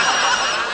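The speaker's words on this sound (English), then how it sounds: "my phone's been ringing off the hook" A phone ringtone sounds loud and close as one continuous, harsh, noisy burst lasting under a second.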